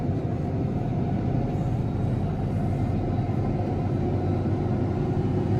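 A John Deere tractor pulling a 60 ft 2230FH field cultivator turns at the headland in a field, heard as a steady, loud, close engine rumble and drone that holds constant throughout with no talk.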